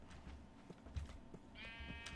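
Sheep bleating in the Minecraft game, modded with Better Than Wolves: a short bleat rises near the end over quiet game background, fairly faint and alone with no talk.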